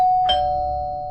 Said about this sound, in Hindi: तभी दरवाजे की घंटी बजी